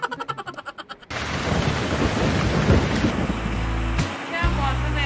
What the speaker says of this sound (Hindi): क्या मौसम है बारिश का।